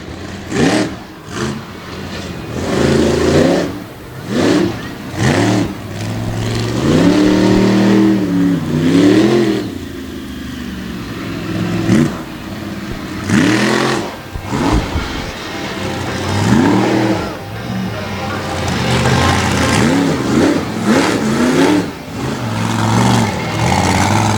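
A monster truck engine revs hard during a show run at an Evansville event, loud and sustained with repeated rising and falling surges of throttle throughout, close and continuous with no talk over it.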